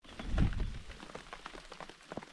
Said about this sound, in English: It's raining. It's wet.